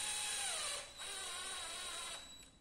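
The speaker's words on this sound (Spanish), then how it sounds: "como enrosca un montón, pues nos ayudamos de un taladro eléctrico" Electric drill slowly driving a long screw, a close, steady high-pitched motor whine in two runs separated by a brief dip, with no voices.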